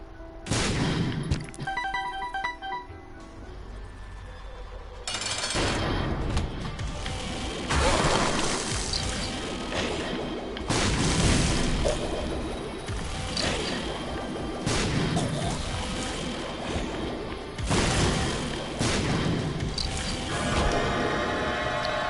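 Explosions go off in The Binding of Isaac, loud cracking blasts every few seconds over a busy, continuous bed of game sound effects, with no one talking.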